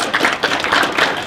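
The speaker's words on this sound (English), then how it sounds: "let's just give yourself a round of applause" A town hall audience claps briefly, dense close applause that carries steadily for about a second without any voices.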